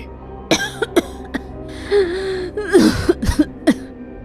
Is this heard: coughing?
yes